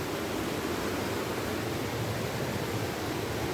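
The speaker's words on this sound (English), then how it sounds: "we've wandered down to the waterfalls. You can see the river's just amazing." Waterfalls and a river in Wales, on a Three Peaks hike, pour out a steady, close rushing roar that stays even from start to finish with no voices.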